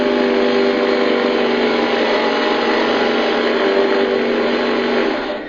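A rock drill bores a bolt hole into rock with a loud, continuous, unchanging grinding whine held for several seconds before easing off at the end.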